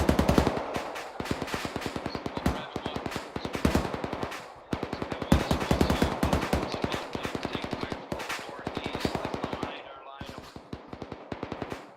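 Rapid machine-gun bursts ring out in a military video game, long rattling strings of closely spaced shots with brief pauses between volleys, fairly loud and sustained throughout.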